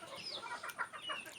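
A coop of native country chickens gives a few soft, brief clucks, faint and close together over a quiet background.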